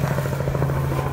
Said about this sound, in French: c'est avec l'hélicoptère là-bas qui est en train de faire un peu de bruit